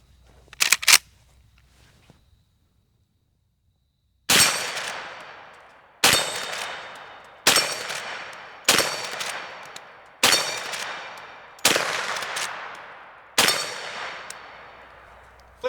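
Marlin 1894 rifle in 10mm fired at an outdoor range, eight loud sharp gunshots spaced about one to two seconds apart, each with a ringing decay, after a few quick metallic clicks at the start.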